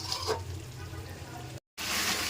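Spice paste of onion, ginger, garlic, turmeric, chilli, coriander and cumin sizzles in a pan for an eggplant and mutton curry, a soft steady frying hiss with a brief cut, and a voice talks over it.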